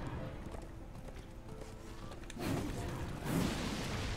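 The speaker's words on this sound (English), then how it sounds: "the horse is surprisingly agile" A horse galloping in Darksiders 2, with quick rhythmic hoofbeats under game ambience, growing louder in two bursts near the end.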